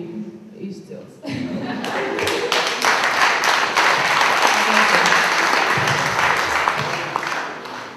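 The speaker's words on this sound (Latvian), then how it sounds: "Aplaus, aplaus" Applause for class 10 B at a Riga school event in 2011 swells from a quiet start into steady, loud clapping from a sizeable audience, with voices mixed in under the clapping.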